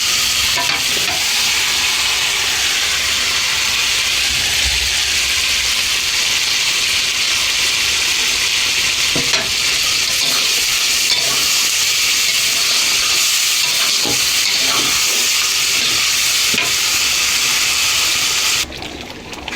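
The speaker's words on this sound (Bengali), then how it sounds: "এই যে আমি তরকারি কষাচ্ছি, দেখেন" Rohu fish and chana dal curry frying and being stirred in a pan, a steady loud sizzle running throughout with scattered scrapes of the spoon and faint watery bubbling.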